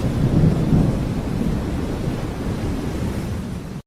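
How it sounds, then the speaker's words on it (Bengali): Heavy rain pours steadily with deep rumbling thunder rolling underneath, a loud, continuous wash of stormy night weather over a shut-in village in a Bengali horror cartoon, with no voices. "শুধু বৃষ্টির শব্দ, আর আকাশ থেকে শোনা যায় মেঘের গর্জন।"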